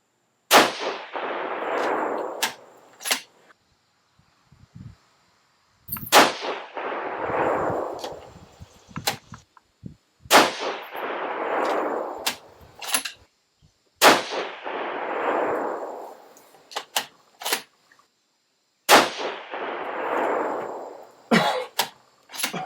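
Five sharp shots ring out from a Savage 110 rifle in 6.5 Creedmoor firing 123gr SST bullets, spaced about four to five seconds apart, each followed by a rolling echo tail and fainter clicks between shots.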